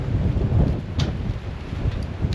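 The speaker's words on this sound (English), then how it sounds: "And the wind is really picking up. I hope you can hear it." Strong mountain wind near Grövelsjön in Sweden buffets the microphone in a steady, loud low rumble, with a couple of brief harder gusts and no voices.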